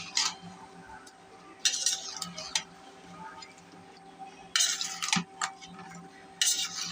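Jackfruit seeds, taro stolons and dried fish stirred in a cooking pot, with a few short bursts of spoon scraping and clinking against the metal, close by, separated by quieter stretches.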